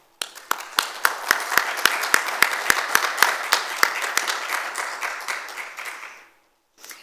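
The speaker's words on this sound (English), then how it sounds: "I'd like to give a warm welcoming round of applause to our panelists for joining us here today" An audience applauds to welcome forum panelists: several sharp, rhythmic claps near the microphone stand over a fuller spread of clapping that swells, then fades out, with a brief, faint sound at the end.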